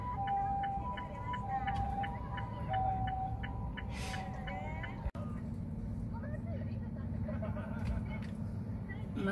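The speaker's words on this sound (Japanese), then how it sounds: "救急車" An ambulance siren wails at a distance, rising and falling over steady traffic rumble, while voices talk nearby.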